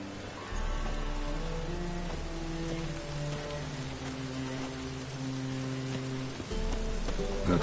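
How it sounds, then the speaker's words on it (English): Steady rain falls in the game Witcher 3, a constant hiss of drops on surfaces beneath sustained background music tones, continuous throughout without talk. "Looks like rain."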